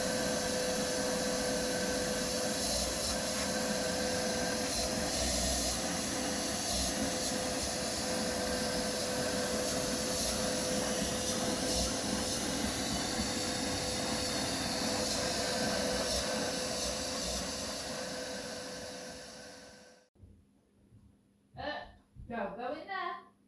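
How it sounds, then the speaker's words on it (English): A vacuum cleaner runs with a loud, steady broadband roar and hiss for about twenty seconds during work on a salvaged Range Rover L322 headliner, then cuts off abruptly, leaving a few brief quieter sounds. "I'll put a link below if anyone's interested in one of these vacuum cleaners."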